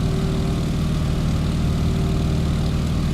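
A single-engine propeller plane in Microsoft Flight drones steadily while climbing out, its engine hum loud, even and continuous with a low throbbing buzz and no voices.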